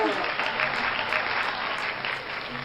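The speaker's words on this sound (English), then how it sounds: "Applause." Studio audience applauding on a horror-themed TV show, steady and dense clapping throughout at moderate loudness, with no talk over it.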